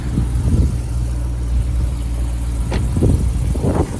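A warmed-up BMW M3 engine idles steadily with a deep, even rumble close to the microphone, with a few faint clicks and small bumps over the constant drone.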